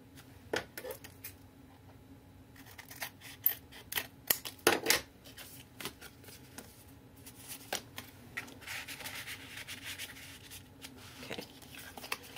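Scissors snipping through a sheet of paper while trimming pieces for a 6 x 6 mini album, a run of quick, close crisp cuts with soft paper rustling in between.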